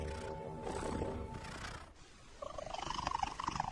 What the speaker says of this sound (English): Recent research discovered a second type of purr that cats use. Not to heal, but to get their own way